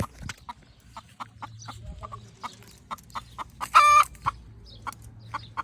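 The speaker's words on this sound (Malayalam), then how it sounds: "കോഴി വിളിക്കണല്ലേ," A hen clucks with short, regular, fairly close calls. One louder, harsher squawk breaks in midway, and there are quiet farmyard sounds in the background.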